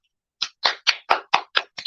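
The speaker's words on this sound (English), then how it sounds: "I had to clap." Seven sharp hand claps in a steady, slightly quickening rhythm, close and loud with silence between each one.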